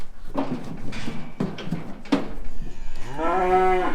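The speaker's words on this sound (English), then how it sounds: "Very unconventional cow." A cow on a cattle farm moos loudly and close at the end, a long rising bellow, after several clattering knocks of gates and hooves in a handling race.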